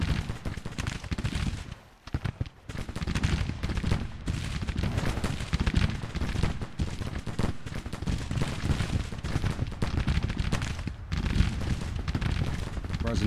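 Grand Tactician: The Civil War musket fire pours from a brigade volleying into an enemy flank, a dense, continuous crackle of shots rolling on for the whole stretch, briefly dipping once, with a voice talking underneath.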